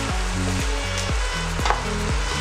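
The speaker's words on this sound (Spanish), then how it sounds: "Seguimos sofriendo por espacio de 2 o 3 minutos" Chickpeas sautéing in a pan with chopped parsley, a steady close frying sizzle with repeated scraping strokes of stirring every half second or so, no talk.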